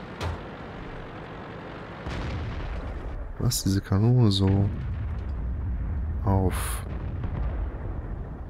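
T49 tank cannon fire in World of Tanks, several heavy booming shots with rumbling game ambience, under someone talking steadily.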